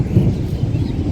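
Thunder rumbles low and heavy in a Bangladeshi village during rainy weather, a short, rolling rumble that stays loud throughout, with no talking.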